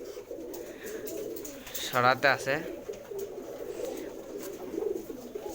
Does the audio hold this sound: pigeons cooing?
yes